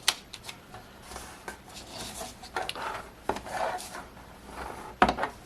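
Paper being folded up from the bottom edge to form a library card pocket, a few soft creasing and rustling sounds with sharper taps, close by and alone.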